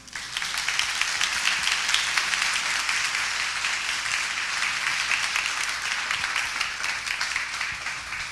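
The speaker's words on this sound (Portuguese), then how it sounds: "Uma salva de palmas, então, para André." Sustained audience applause at a typography event in São Paulo, a dense, even wash of many hands clapping at steady loudness throughout.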